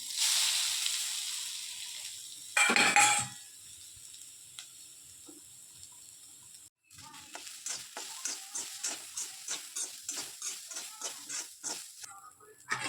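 Ground coconut fries in a little oil in an iron wok: a soft, close hiss at first, then a regular run of scraping stirring strokes over a faint sizzle.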